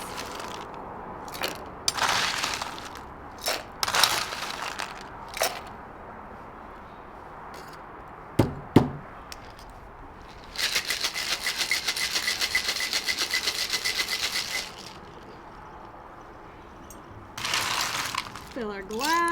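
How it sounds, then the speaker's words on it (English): A whiskey sour is shaken hard with ice in a cocktail shaker, with several short rattling bursts and then a sustained vigorous rattle lasting a few seconds. A voice speaks in between. "And then we shake again with ice."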